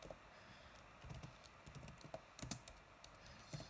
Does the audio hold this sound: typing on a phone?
yes